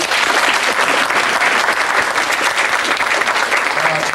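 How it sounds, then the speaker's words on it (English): An audience gives a big round of applause for a performer, thick continuous clapping filling the room at full volume from start to finish. "would you please give Paul Clark a big round of applause, please?"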